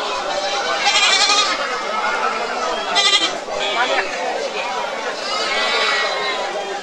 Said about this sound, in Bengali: অসংখ্য দেশি জাতের ছাগল, শুধু দেশি জাতের ছাগল।